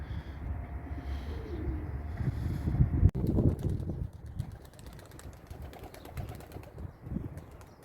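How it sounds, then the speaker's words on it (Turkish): Tumbler pigeons, released to fly and perform, heard outdoors with soft cooing and bird sounds amid steady wind and microphone rumble, no voices. "Kuşları açtım. Bakalım bugün neler yapacak, ne kadar uçacak."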